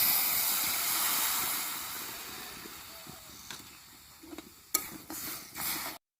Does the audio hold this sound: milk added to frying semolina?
yes